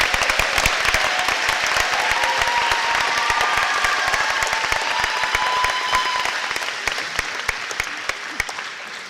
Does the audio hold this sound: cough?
no